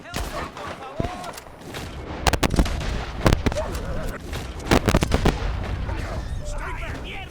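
Gunfire in the Red Dead Redemption 2 video game: a volley of sharp, loud gunshots in irregular bursts, some in quick clusters, mixed with shouting voices and talk between the shots.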